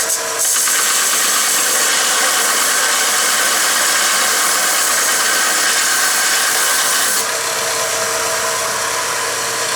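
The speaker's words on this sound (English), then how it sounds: "if we're going to grind a casting or whatever the part is, and we want to square it up" A restored Mead belt sander grinds a metal casting to square it up, giving a loud, steady abrasive roar and whine that runs continuously throughout, with a slight drop in intensity near the end.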